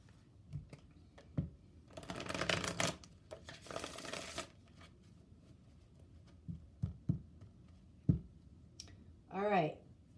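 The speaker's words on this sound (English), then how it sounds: "I'm going to pull a card for that." Chakra wisdom oracle cards are shuffled in two brisk riffling bursts, followed by scattered light taps and clicks as cards are handled and pulled, close and fairly quiet.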